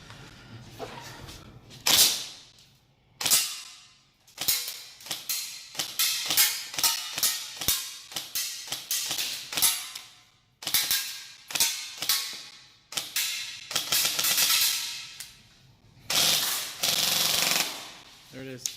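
G&G SSG1 airsoft rifle emptying its magazine in a long string of sharp, close shots, some in quick bursts and some spaced apart, with brief pauses between strings.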